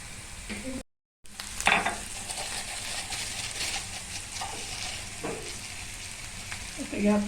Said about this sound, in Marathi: लसूण पण चांगला परतून घ्यायचा